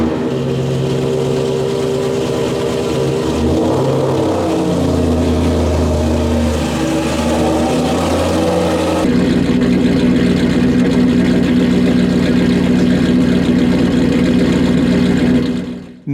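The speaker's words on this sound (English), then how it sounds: "The new tubular-style titanium exhaust system with GT3 high-flow cats" A 2018 Aston Martin Vantage AMR Pro idles through its tubular titanium exhaust with GT3 high-flow cats, a steady, loud, close rumble that shifts at about nine seconds to a slightly higher, smoother idle and holds there alone.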